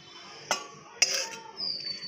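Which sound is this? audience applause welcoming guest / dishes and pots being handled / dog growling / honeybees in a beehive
dishes and pots being handled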